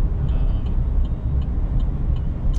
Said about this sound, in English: I'm pulling it down the road right now, doing 60 miles per hour.